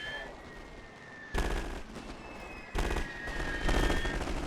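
MP44 gunfire in Napoleon Total War with the Great War mod, two sudden sustained bursts of rapid automatic fire crackling over a low battlefield rumble, loud and close.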